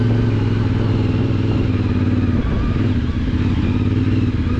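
A CFMOTO 450MT motorcycle rides an off-road trail, its mid-pitched engine droning steadily and loud throughout, with a slight dip in the middle and clatter from the rough ground.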